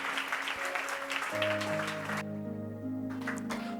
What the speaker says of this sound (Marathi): जरा जोरदार टाळ्या परमेश्वराच्या गौरवासाठी